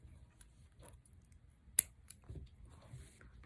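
Scissors snip through faux leather yarn in a quiet setting, a single crisp cut standing out among faint handling rustles.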